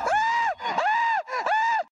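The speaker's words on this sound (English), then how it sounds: "making the most terrifying scream you've ever heard in your life" A man's terrifying, drawn-out scream during a bungee jump, three loud wailing bursts with short breaks between them, close and alone with no other sound.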